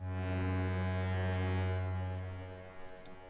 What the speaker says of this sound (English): Sounds a bit like a foghorn actually, but it's got a really cool sound in the context of the track